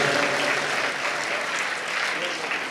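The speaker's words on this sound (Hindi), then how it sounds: "एक बार इनके लिए तालियां बजाओ आप।" A dense, steady wave of audience applause for a professor and poet at a comedy poetry gathering at IIT Jodhpur, loud and continuous throughout without a break.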